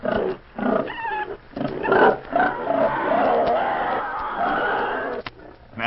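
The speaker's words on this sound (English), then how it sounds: "That was hogs and pigs." Hogs and pigs on a farm grunt and squeal in loud, rough bursts that overlap, with short gaps between them, from an old-time radio recording.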